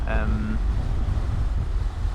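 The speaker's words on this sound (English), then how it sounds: "Like today it's very windy" Strong wind gusts buffet the microphone of a riding motorcyclist with a low, rumbling roar, and a brief tonal sound is heard at the start.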